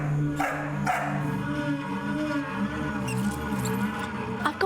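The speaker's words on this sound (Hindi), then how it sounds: "बेचारा बस भौंके ही जा रहा है।" A dog barks and yips over and over in a steady run of loud, close barks, with some whimpering between them and no talking.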